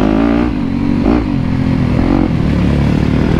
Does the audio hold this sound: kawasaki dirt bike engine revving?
yes